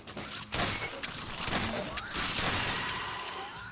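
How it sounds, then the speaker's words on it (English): Shotgun blasts and gunfire from a Half-Life 2 custom campaign firefight, several sharp loud bursts over a dense, noisy game soundscape with no voices. "The shotgun seems to be working pretty well."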